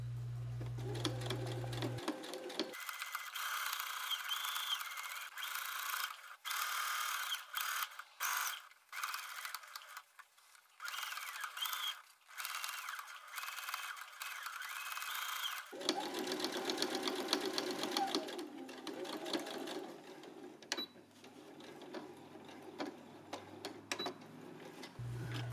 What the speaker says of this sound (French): On vient coudre à 1 cm tout au bord de l'emmanchure.